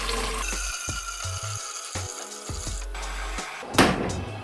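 Tap water running into a cooking pan for tagliatelle in a home kitchen, a steady pour with shifting tone as the pan fills, ending with a brief louder splash.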